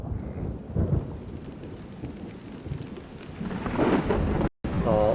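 Rain and rolling thunder from the Xenosaga Episode II video game, a steady broad wash of rainfall with low thunder rumbles building toward the end, cut briefly by a short gap of silence.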